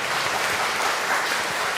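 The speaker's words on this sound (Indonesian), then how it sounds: "tepuk tangan ya, luar biasa ya" Audience applause at a choir fellowship event in West Java, a dense, steady wash of clapping from a crowd, moderately loud and continuous with no talk over it.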